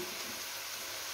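Meat and vegetables frying in a pan as filling for vol-au-vent, with a continuous dense sizzle, close and steady, and no talk.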